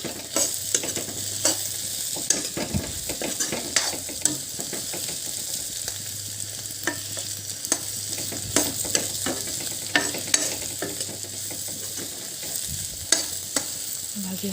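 Vegetables sizzling in a pan with frequent scraping and clacking strokes of a spatula, a quiet continuous fry under irregular stirring hits over a faint low hum, no talk.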